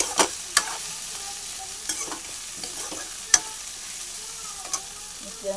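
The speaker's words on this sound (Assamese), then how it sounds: "পাৰ মাংসখিনি অকণমান ভালকৈ ফ্ৰাই কৰি লৈছোঁ" Pigeon meat frying in a pan gives a soft, steady sizzle, punctuated by several sharp scraping clicks as it is stirred.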